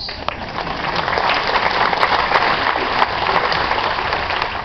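Passengers aboard a ship applaud the captain in steady, dense clapping, with a few sharper individual claps standing out.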